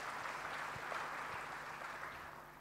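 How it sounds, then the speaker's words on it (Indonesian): A church congregation applauding during an evangelism service: a steady, fairly faint wash of clapping with a few sharper claps, holding evenly and tapering slightly at the end. "Kita berikan tepuk tangan buat Tuhan Yesus."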